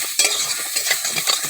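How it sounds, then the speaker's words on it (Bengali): Pointed gourd frying in a shallow film of oil in a pan and being stirred, with repeated scraping strokes over a steady close, loud sizzle. "একটু নেড়ে চেড়ে দেবো।"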